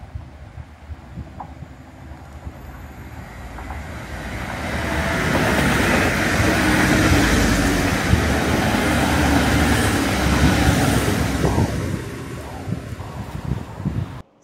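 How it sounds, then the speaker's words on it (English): TransPennine Express trains pass through Redcar East station with a rising rumble and rattle of wheels on track that swells to a loud, sustained roar and then ends abruptly, with no speech. "we got the both TransPennine Express units passing through Redcar East"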